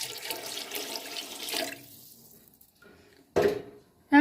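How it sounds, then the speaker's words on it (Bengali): Water pours into a pot of moong dal khichuri with vegetables, a steady splashing stream for about a second and a half that fades out, followed by a couple of short clatters. "আর একটু জল আমি দিয়ে দিচ্ছি"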